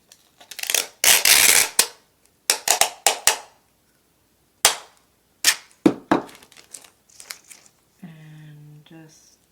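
Packing tape is pulled off the roll in loud ripping bursts and pressed down onto junk journal pages with floral stickers, followed by scattered crinkles and taps, close by, with pauses between pulls.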